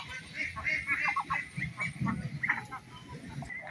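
Ducks and chickens following someone through a home garden in the afternoon, a cluster of nearby quacks, clucks and honking calls in quick irregular bursts, fairly faint overall.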